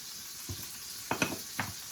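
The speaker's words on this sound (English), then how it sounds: "we'll just keep browning the roast" Roast beef browning in a hot pan, a steady soft sizzle broken by a few close scraping or shifting sounds.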